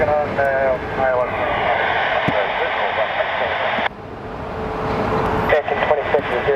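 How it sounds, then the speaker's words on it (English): An American Airlines regional jet on short final approach at Phoenix Sky Harbor Airport drones loudly and steadily, its engine roar continuous and close, with radio chatter mixed in and a sudden drop in level midway before swelling again. "This is our American Airlines flight going to JFK."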